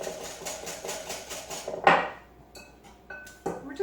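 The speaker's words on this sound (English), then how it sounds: "We're just going to mix this all up together" A spoon stirs sugar and flour together in a bowl, knocking against it in a steady run of clinks before a louder clatter and a few scattered taps.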